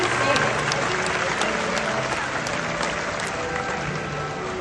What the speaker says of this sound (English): let's take a moment and give a round of applause to these amazing birds